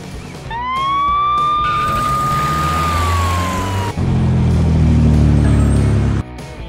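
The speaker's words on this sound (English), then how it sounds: "Ambulance." An ambulance siren wails loudly and up close, its single rising-and-falling tone sweeping upward and holding before a hard cut to another vehicle sound underneath, with no talking.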